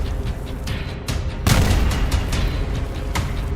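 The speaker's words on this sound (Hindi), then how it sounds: "धमाके शुरू हो चुके हैं।" Wartime explosions in the Middle East: a steady rumbling roar with scattered low thuds, then a heavier loud blast that keeps booming and crackling densely without pause.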